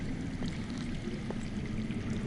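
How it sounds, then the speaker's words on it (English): Water flowing underground in a Game of Thrones video game makes a soft, steady rushing stream, distant and continuous, with no voices. "That's water. I hear water. From underground."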